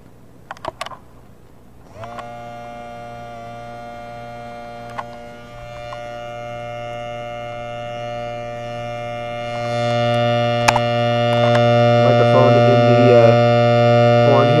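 A small hand-cranked chopper siren winds up with rising harmonic tones over the steady whir of a lobe blower, with clicks and knocks from cranking as the pitch climbs and the sound grows louder.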